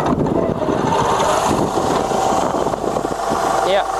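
A Spanish Fexac Model UG universal mill running in its fastest gear at 1400 RPM, producing a steady, fairly quiet mechanical hum with a faint whine, while a voice speaks over it.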